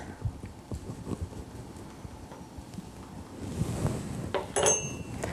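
Sugar and eggs for pumpkin pie are mixed in a bowl, a soft, irregular tapping and clinking of a utensil that grows louder and busier toward the end, with no voices.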